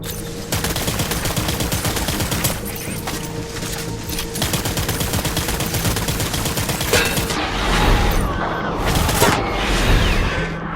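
Dense, loud gunfire from the PS5 video game Death Stranding Director's Cut: rapid automatic bursts and scattered shots rattle almost nonstop, with heavier blasts and crackling toward the end.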